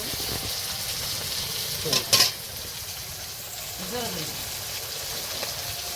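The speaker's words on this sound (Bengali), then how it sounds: "এই যে চিংড়ি মাছটা ভাজা হয়ে গেছে এখন" Giant prawns fry in a pan for a prawn malai curry with a steady, close sizzle. A brief utensil clatter sounds near the start.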